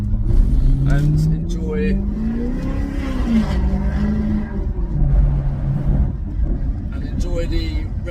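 A Maserati GranTurismo S with a Stage 1 tune revs on a dyno indoors, the loud exhaust note rising and falling in long sweeps that echo off the walls, while someone talks over it.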